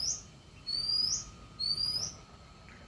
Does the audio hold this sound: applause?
no